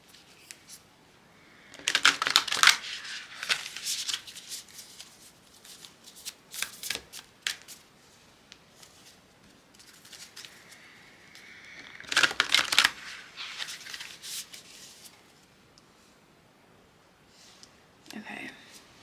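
A deck of astrology cards being shuffled up close, with bursts of riffling and card slaps around two to four seconds and again near twelve seconds, separated by quieter handling.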